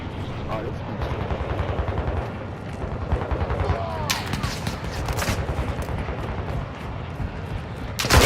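Incoming gunfire in a video game: dense, continuous rapid shots and bursts close by, with heavier cracks in the middle, a sustained loud barrage with game voice chatter mixed in.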